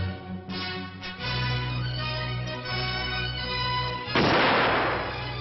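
Ceremonial cannon fire outdoors, marking a sultan's investiture, lands as a few heavy booms, with a sharp burst near the end against a droning musical background.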